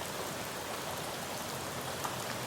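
Monsoon rain in the hills near Thane, a steady, even hiss of drops falling all around at moderate volume with no voices.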